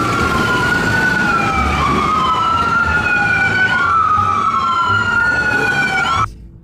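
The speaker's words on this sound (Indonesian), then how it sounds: "Kita menemukan ambulans." A loud wailing ambulance siren sweeps up and down repeatedly, close by, then cuts off abruptly near the end.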